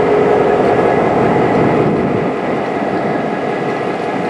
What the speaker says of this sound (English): It sounds really, really clean for an EMD.